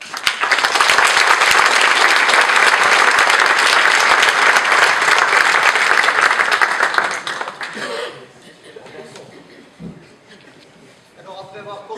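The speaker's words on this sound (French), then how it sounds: "donc vous pouvez vous applaudir" A crowd at a year-end company gathering bursts into loud, dense applause that holds steady for about eight seconds, then cuts off into quiet murmuring, a brief chuckle and a voice speaking.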